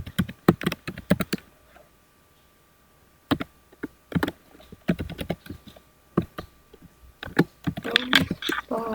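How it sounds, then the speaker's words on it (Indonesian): Typing on a computer keyboard: quick clusters of sharp key clicks in uneven bursts separated by short pauses, close and fairly crisp, with no talk over them. "Di sini kita ketik dulu."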